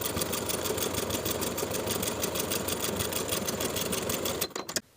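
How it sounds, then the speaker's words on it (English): A sewing machine stitches a pocket to the seam allowance of a front pant piece for elastic-waist shorts, running steadily with a fast, even mechanical chatter for about four and a half seconds before slowing and stopping. "sew the pocket to the seam allowance underneath with about an 1/8 inch seam allowance"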